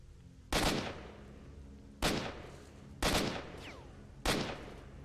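Gunfire in a video game rings out as four separate loud shots spaced about a second apart, each cracking sharply and then trailing off into a long echoing tail, with no talking between them.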